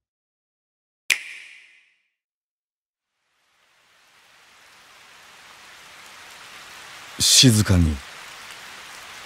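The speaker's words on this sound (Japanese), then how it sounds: "雨が降っていた。" Soft steady rain falls in the video game Oninaki, rising gradually from near silence into a gentle, even hiss, preceded by a brief sharp tap, with a short spoken phrase near the end.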